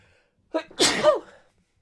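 One loud, close sneeze with a short sharp intake of breath just before it, then silence.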